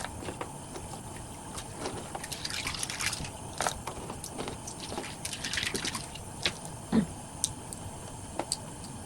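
Running water rinses something at a sink while cleaning a Squirt's Hale, a steady trickling splash with scattered drips and small clinks, moderately close and continuous throughout.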